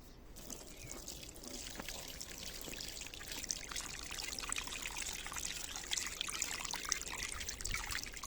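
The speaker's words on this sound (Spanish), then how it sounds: "echad agua" Water pours steadily onto the soil of a freshly potted mint plant, a continuous close trickling and splashing that holds for several seconds without talk.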